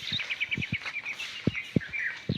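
Several small birds chirp in quick, repeated high notes, close by and clear, with a few soft low thumps in between.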